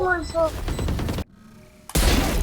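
A Vandal rifle sprayed in Valorant gives a loud, close burst of rapid shots, then drops out briefly before another burst returns, with someone talking over it.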